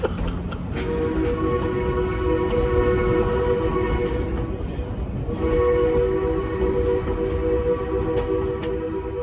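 A Durango & Silverton scenic railroad steam train rumbles steadily up close, with sustained low tonal hum and a whistle-like tone swelling twice through the continuous mechanical noise.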